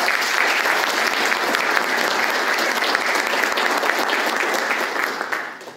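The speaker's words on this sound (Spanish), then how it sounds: "¿Para quién pido el aplauso?" An audience at a local history talk applauds, a steady, full wash of clapping held for several seconds before fading at the end.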